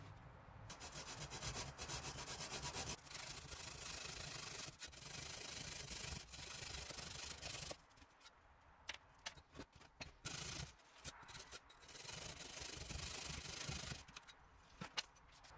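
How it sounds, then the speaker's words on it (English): Diagonal grooves are cut by hand into fire bricks for a homemade kiln, giving a continuous gritty rasping and scraping close by, then a stretch of shorter, broken strokes. "6 of the bricks need to have the diagonal grooves cut into them"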